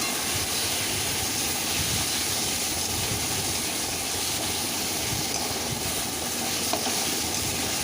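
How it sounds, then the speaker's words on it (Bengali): Onions and turmeric powder frying in a pan for ghugni are stirred steadily, a dense, even sizzle and scraping that runs loud and close throughout with no voices. "ভালো করে এটা নাড়িয়ে নিচ্ছি।"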